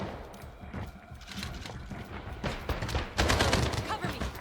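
Bursts of automatic gunfire crackle in a Delta Force match on the Tidal Prison map, rapid volleys building louder toward the end, with a commentator talking over the shooting.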